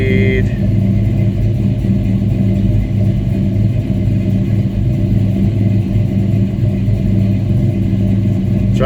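An LS-swapped 1994 Chevrolet Caprice V8 idles on a Holley Terminator X engine management system, a loud, steady low rumble that holds its pitch throughout.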